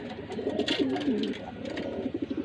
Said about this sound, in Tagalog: Ito lang yung mga ibon natin.